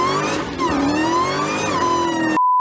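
Supercharged car engine revving loudly and close by, a rising high supercharger whine riding over the harsh engine roar, dipping and climbing again before cutting off into a brief steady tone.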